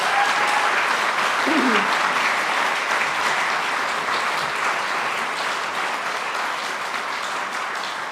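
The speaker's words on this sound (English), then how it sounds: "Can we just hear one more round of applause for those?" Audience applause at a volunteering awards ceremony in the Canberra region, a steady, dense wash of clapping that holds for about eight seconds and eases slightly toward the end.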